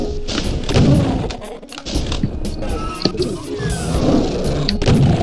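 Super shotgun blasts in the Doom map pack TNT: Evilution, heard as several heavy thumping shots among game noise and monster sounds, loud and close.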